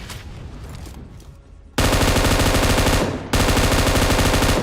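M249 machine gun firing in PUBG Mobile, a dense sustained burst of rapid automatic gunfire that starts after a quieter stretch, breaks off briefly, then resumes just as loud and continuous to the end.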